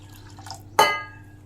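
Water poured into a dry semolina mix in a kitchen: a single short splash, bright and close, that fades quickly over a faint background hum.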